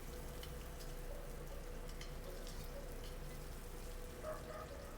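Ginger frying in a pan while being stirred for pork adobo, a faint continuous sizzle with soft scattered crackles and light stirring throughout.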